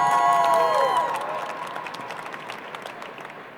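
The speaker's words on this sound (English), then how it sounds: "Big round of applause, please." Applause from an audience at a 2022 US Brewers Cup Championship coffee competition, starting loud with a whistle-like tone early on, then settling into a steady wash of clapping that gradually fades.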